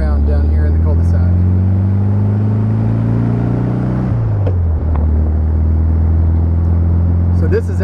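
A 1972 Volkswagen Beetle Convertible drives around a cul-de-sac, its engine humming steadily up close, then dipping in pitch midway as it shifts before settling into a low, even drone.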